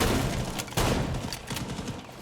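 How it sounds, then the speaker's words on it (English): Gunfire and explosions from a competitive tactical shooter video game match, a dense fusillade of shots with a booming blast partway through, loud and continuous. "Loads of explosions in Classical Hall."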